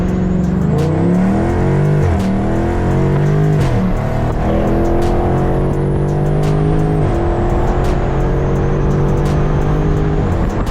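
A 2019 Dodge Charger Scat Pack with a 392 V8 launches from a stop on partial throttle, its engine roaring close and loud and climbing in pitch through several rising sweeps as it shifts gears.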